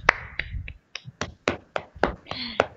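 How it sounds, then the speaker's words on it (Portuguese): A pair of hands clapping about ten times in an uneven rhythm, close and crisp with short gaps between claps. "Palmas, palmas"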